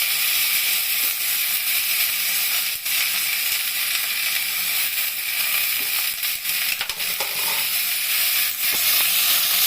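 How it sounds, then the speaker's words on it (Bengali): Drumstick flowers dropped into hot oil, a loud, continuous, close sizzle and hiss with scattered crackles and small clicks of stirring throughout. "এখন আমি সজনে ফুলটা দেব। এমনি অল্প ফুল, তার মধ্যে আরো তেলে পড়লে আরো মজে যাবে।"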